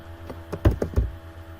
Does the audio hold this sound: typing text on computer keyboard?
yes